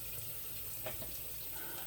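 Three-quarters of a cup of cold water is poured into a batter mixture for Korean fried chicken, making a steady, faint liquid stream with a few soft splashes and no voice over it.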